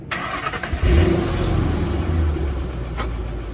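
A 2005 Ford Mustang GT with a 5-speed manual cranks briefly and fires up. It catches with a loud revving burst, then settles into a steady, deep, close idle.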